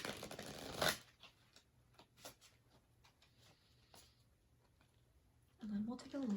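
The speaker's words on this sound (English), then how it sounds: "So I'm just going to shuffle the cards a few times." Tarot cards shuffled by hand in a few quick riffling bursts, soft papery flicks, with talking close by at the start and end.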